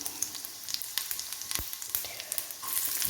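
Small onions (shallots) sizzle in a hot frying pan, a steady crackling fry with scattered sharp pops and a brief stir, close and moderately loud with no talking.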